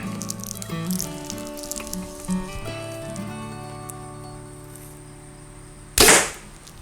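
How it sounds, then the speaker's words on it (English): An arrow is shot from a bow fitted with a newly installed sight. A faint ringing hum is followed by a single sharp, loud thwack as it strikes a paper target, with no talking. "shoot another arrow to make sure my grouping is going to be low"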